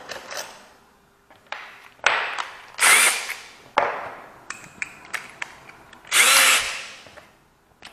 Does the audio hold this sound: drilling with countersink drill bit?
yes